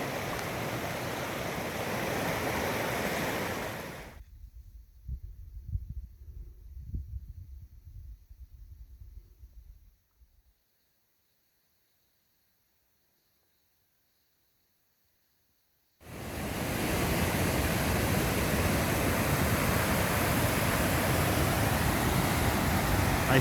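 Fast-flowing river water at a trail crossing on the Pacific Crest Trail rushes in a loud, steady wash, drops away to near silence partway through, then returns at full strength.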